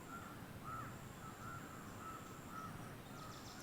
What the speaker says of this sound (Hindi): पेड़ों पौधों में चिड़िया बोल रही हैं